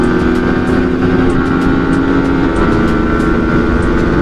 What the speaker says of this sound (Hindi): फुल ऑन मस्ती स्वैग में गाड़ियाँ चल रही है।